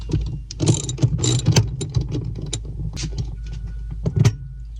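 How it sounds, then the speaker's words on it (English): A ratchet loosening the front seat bolts on a third-generation Toyota 4Runner, rapid clicking bursts repeating in quick runs, close and clear, with metallic rattles between strokes. "First thing we're going to do is remove these 2 front bolts."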